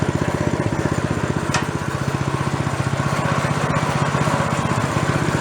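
A small snow blower engine idles in a steady, fast putter with even, closely spaced firing pulses, loud and close, and no voices are heard.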